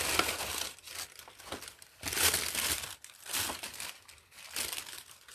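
A paper gift bag is handled and crinkled up close in continuous loud rustling waves, rising and falling without pause and with no talking.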